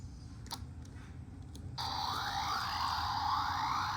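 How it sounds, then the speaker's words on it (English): A Gavarion Dornado toy from Super Space Sheriff Gavan produces an electronic suction effect after a few faint clicks: a bright steady hiss with repeating rising whooshes that continues to the end. "It's a sound of suction."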